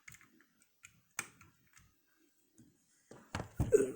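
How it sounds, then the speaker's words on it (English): The hood of a 1:32 scale model pickup truck is opened by hand, giving small, sharp plastic clicks and taps spread across a quiet room, with a louder cluster of handling noises near the end. "Hood opens up."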